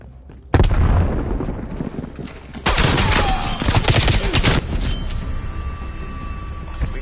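A frag grenade explodes with a sharp loud boom in a video game firefight, followed by a dense burst of rapid gunfire and more blasts before the noise thins to a lingering rumble.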